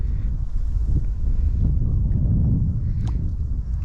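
Gusty wind buffeting the microphone outdoors beside a lake while fishing, a loud low rumbling roar that swells and eases with a few faint knocks, no talk.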